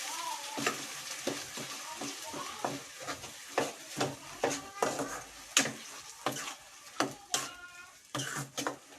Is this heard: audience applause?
no